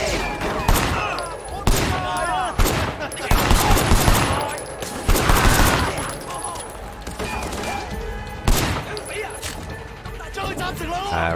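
Rapid bursts of gunfire ring out in Sleeping Dogs, sharp repeated shots clustered in volleys with short gaps, loud and close, while a voice talks over the action.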